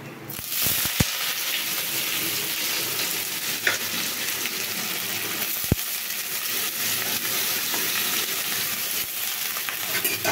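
Nigella seeds fry in hot oil in a wok as a steady, close sizzle with a few sharp pops and clicks, no voices.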